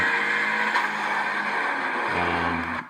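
A car engine screams near redline in fourth gear, reaching about 110 mph, a loud, sustained, strained roar with tire and road noise that drops into a lower tone near the end.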